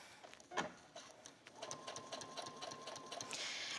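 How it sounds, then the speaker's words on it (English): A sewing machine stitching fabric for a cosplay skirt, close and clear: a steady mechanical whir of the needle running for a few seconds, preceded by a brief clack and small handling sounds. "And now I'm ready to give it a little sew."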